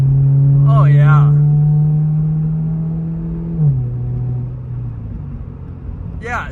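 A Toyota GR86 sports car's exhaust gives a steady low drone while driving in traffic, holding pitch and then dropping as the engine eases off. A voice speaks briefly over it.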